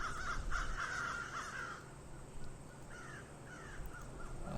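A crow caws several times in a video game, harsh repeated calls at moderate distance over a steady low ambient background.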